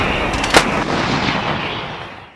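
A single loud, close artillery blast from a mortar or howitzer during military training, a sharp boom followed by a long, rumbling echo that slowly fades.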